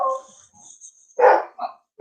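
A big dog barks loudly and close, with a whine first and then a series of deep, punchy barks.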